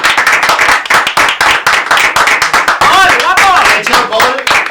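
Close, loud hand clapping from a few hosts in a small studio, a rapid uneven run of sharp claps over several seconds with voices calling out and laughing underneath.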